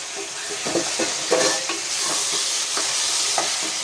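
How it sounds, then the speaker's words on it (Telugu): Chicken pieces tossed into sizzling fried onions in a pan, with steady frying hiss and repeated scraping stirs of a spoon, close up and alone without speech. "ఉల్లిపాయ వేగిందండి. దీంట్లోకి చికెన్ వేసుకుందామండి."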